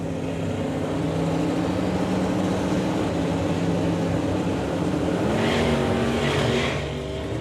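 Drag race cars launching at a summer nationals meet, one struggling with heavy wheelspin, a continuous loud engine roar that swells slightly midway and fades at the end.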